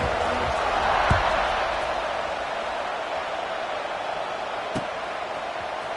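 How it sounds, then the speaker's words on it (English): A stadium crowd in a college football video game keeps up a steady broad roar after a score, with a couple of brief thuds near the start and end. "this crowd is buzzing after that last score"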